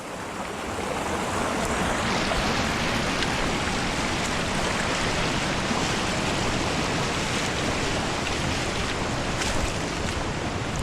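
Cold mountain creek at Suicide Creek rushes steadily and loudly, a dense, unbroken wash of flowing water close by with no talking.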